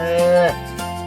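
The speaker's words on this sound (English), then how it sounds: "It's a cow. Can you say cow?" A cow moos once on a farm, a loud, drawn-out bellow that swells and then fades, heard alone and close up.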